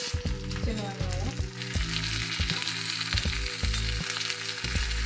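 Small onions frying in hot oil for mor kuzhambu, a steady loud sizzle with bubbling crackle and a few stirring scrapes, close and continuous with no talk.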